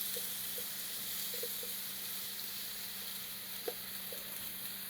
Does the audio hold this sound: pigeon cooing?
no